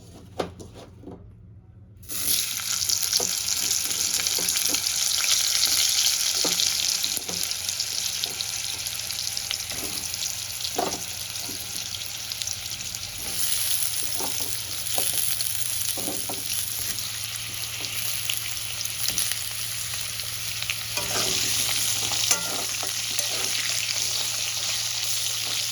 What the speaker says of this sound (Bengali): মাছ ভাতে যথেষ্ট তেল রয়ে গেছে, ওই তেলের মধ্যে আমি কেটে রাখা আলুগুলো ভেজে নেব